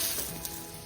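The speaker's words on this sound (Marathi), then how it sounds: "आता या कांद्यावरती पण थोडंसं तेल आपण टाकून घेणार आहोत" Onions frying in oil in a pan for a village-style chicken curry, giving a soft, steady sizzle close by that fades slightly over a brief moment, with no talking.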